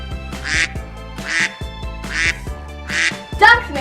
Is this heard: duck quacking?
yes